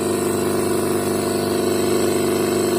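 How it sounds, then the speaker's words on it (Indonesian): A refrigerator compressor with a humming fault is running on a repair bench, giving off a steady, close, even drone with a strong hum and no breaks or talking. "ini mesin kompresornya masih aktif"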